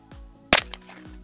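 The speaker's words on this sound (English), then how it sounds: "It's a shotgun." A single sharp, loud shot from an Adler A110 shotgun with a 28-inch barrel, fired outdoors and followed by a brief ringing tail, with faint mechanical clicks before and after.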